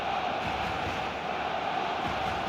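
Stadium crowd noise from an eFootball match day at a LaLiga venue, a steady dense roar of many voices with no breaks, heard from within the stands.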